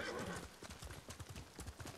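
A horse in the video game Ghost of Tsushima, with a whinny at the start followed by a steady rhythmic clip-clop of hooves at a trot, close and clear with no talking.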